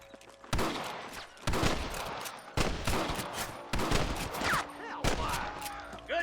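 Shootout gunfire in the Red Dead Redemption video game: about five loud, sharp gunshot bursts at roughly one-second intervals, each trailing into reverberant echoes, with faint background ambience between shots.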